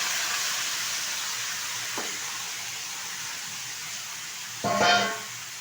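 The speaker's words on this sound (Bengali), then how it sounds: "ঢেলে দিচ্ছি কড়াইয়ে তেলের মধ্যে" Bottle gourd pieces tipped into hot oil with black cumin in a kadai: a steady, close hiss of oil runs throughout, swelling into a louder sizzling burst near the end as the pieces land.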